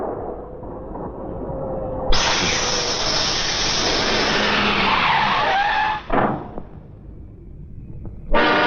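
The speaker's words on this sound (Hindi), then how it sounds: "गाड़ी को भी इस वक्त पंक्चर होना था" A car with a punctured tire skids with a long, loud tire squeal and grinding roar on the road in a Bollywood film, cutting off abruptly before another short burst.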